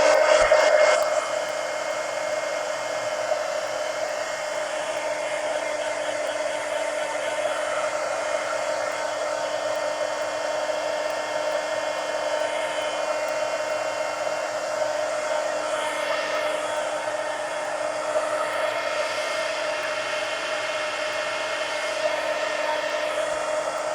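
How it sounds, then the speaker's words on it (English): A heat gun blows a steady, loud whoosh of hot air over wet paint on a mixed-media collage, running unbroken for the whole stretch with no talking. "let me hit that with the heat gun real quick"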